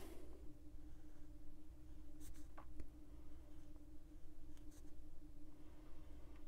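Quiet scratching of a pen writing by hand in a bullet journal, soft intermittent strokes close up over a steady low background hum.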